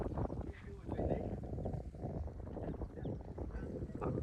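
Strong wind blows across a cotton field, a loud, buffeting roar that rushes against the microphone throughout, while people talk nearby.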